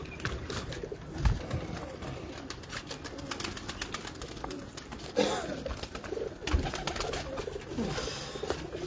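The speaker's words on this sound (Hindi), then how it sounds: "ये देखें जी, ये कबूतर हैं सारे" Pigeons coo softly in a loft at close range, with wing flutters, scuffling and a few sharper knocks mixed in under a busy low background.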